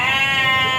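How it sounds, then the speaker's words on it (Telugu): A single loud, close bleat rings out from goats and sheep penned at the Jiyaguda livestock market in Hyderabad, with no talk over it. "ఇక్కడ జియాగూడ మార్కెట్లో వచ్చేసి మేకలు మేకపోతులు అయితే ఎక్కువ అయితే ఉన్నాయండి"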